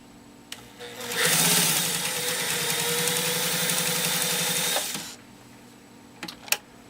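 PFAFF 130-6 sewing machine driving through ten layers of canvas binding tape, a loud close motor hum with fast stitching that runs steadily for about four seconds and then stops, followed by a few small clicks.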